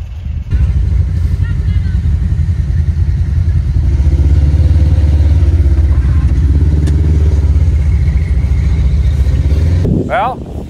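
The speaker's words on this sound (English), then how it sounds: "all four wheels are spinning and slipping" Off-road vehicle on a snowy farm trail with all four wheels spinning and slipping, a loud sustained engine roar held at high revs close by, easing off near the end.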